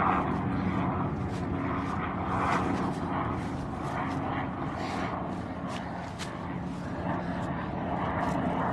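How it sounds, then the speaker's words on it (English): A helicopter flies overhead above woods in a film scene, its engine and rotor making a steady, moderately loud roar that runs through the whole stretch. "It's probably a helicopter."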